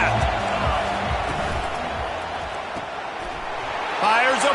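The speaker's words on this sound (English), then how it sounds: "They challenge this crowd to bring the energy, and I'd say they're doing that." A football stadium crowd at an LSU versus Alabama game keeps up a loud, continuous roar of cheering, with an announcer's voice heard over it near the start.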